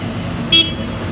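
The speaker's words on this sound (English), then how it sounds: "Ripping up the road outside our studio here." Roadworks tearing up the street outside a studio give a constant low rumble of machinery and traffic noise, with a short car horn toot cutting through midway.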